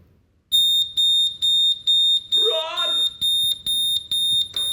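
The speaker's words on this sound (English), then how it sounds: "So I'm going to press the alarm now for you to hear what it's going to sound like." A smoke alarm sounds after its test button is pressed, a loud shrill electronic tone pulsing in steady repeated bursts, with a person speaking briefly partway through.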